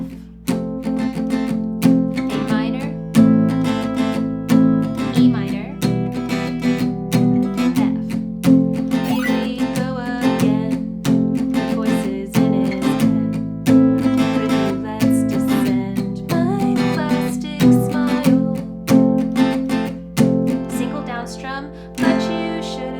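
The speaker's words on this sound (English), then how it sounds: "So if you apply this palm mute, again, totally optional, to the verses, it would sound like this" An acoustic guitar strummed in a steady pattern with palm-muted down strums for the verses of a song, close and continuous, with chord changes throughout.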